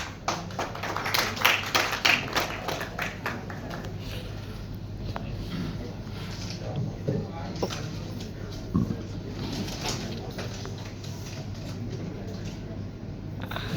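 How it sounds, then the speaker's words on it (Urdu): An audience claps steadily through a Mumbai Urdu teachers' union best teacher award ceremony, welcoming the programme's leader. The applause forms a dense, even wash that runs for over ten seconds with occasional louder claps near the start. "زوردار تالیوں سے استقبال کریں اس پروگرام کے رہنما صدر جناب جاوید انصاری صاحب"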